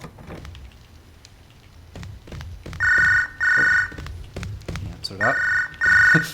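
A telephone rings in bursts, two paired electronic rings, a pause, then two more, loud and close over ongoing talk and background chatter.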